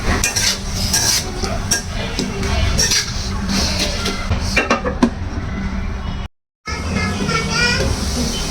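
Chili, onion paste and garlic paste cook with shrimp and banana peppers in a pan, a dense continuous sizzle under busy stirring with metal clatter and scraping, close and loud, with a brief cut to silence partway through.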